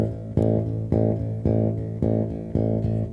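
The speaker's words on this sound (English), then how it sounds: "So now with the stronger index finger, that's going to sound like this." A rock bass line is picked hard with a strong index finger, giving six evenly spaced, punchy repeated notes with sharp attacks that ring and decay between strikes, played alone and close.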